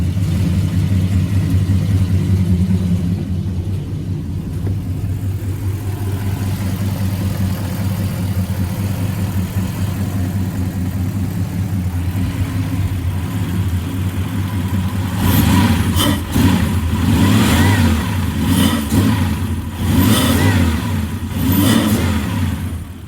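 Toyota 1UZ-FE V8 engine swapped into a Jeep XJ with a new exhaust, a loud steady deep idle drone followed by several sharp revving bursts near the end, close and alone.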